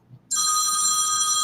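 Telephone ringing in a home kitchen during holiday cookie baking, a loud, steady electronic ring that starts abruptly after a brief quiet moment and holds to the end.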